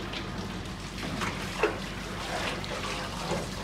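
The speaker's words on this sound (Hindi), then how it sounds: "कूलर से पानी निकल" Water trickling and dribbling out of an air cooler, soft irregular drips and splashes over a low steady background hum.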